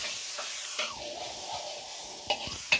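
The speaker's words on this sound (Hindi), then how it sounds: "मसाला भून रहा है" Spice masala with soaked tamarind pulp, seeds still in, frying and being stirred in a pan: a steady soft sizzle with a few scraping stirs and light clinks, fairly close and with no voices.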